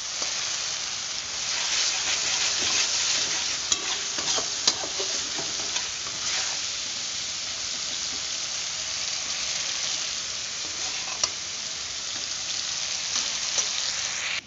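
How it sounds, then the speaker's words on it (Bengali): Spice paste is stir-fried in a pan, giving a steady close hissing sizzle with occasional scraping clicks from stirring throughout. "এরকমভাবে মশলাটা কষাতে হবে।"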